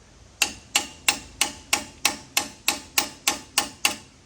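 Eleven sharp metallic hammer strikes land at an even, steady pace on a tightened brake bolt during a Ford F350 front brake install, each ringing briefly and decaying before the next, close and clear with no talking.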